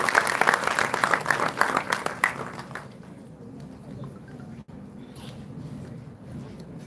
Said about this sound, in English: Let's have a huge round of applause for Dr.